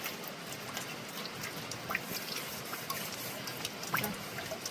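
Rain falls steadily outdoors during a heavy downpour in a hill setting, a broad hiss of patter and drips with a few louder close drops, continuous and moderate throughout with no talking.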